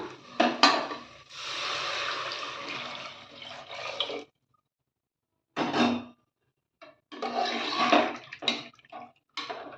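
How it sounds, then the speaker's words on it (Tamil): Water poured from tumblers into a pot of rice for ghee rice, two splashing, gurgling pours with a clear pause between them and a few clinks of metal vessels. "நான் மூணு டம்ளர் தண்ணி எடுத்து வச்சிட்டேன் இப்போ சேர்த்துக்கலாம்"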